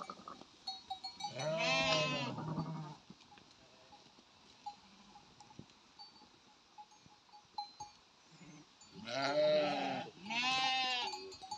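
Sheep bleat on a sheep farm in a village, with wavering calls in two bursts and a few quieter ones between, a bell tinkling faintly in the background.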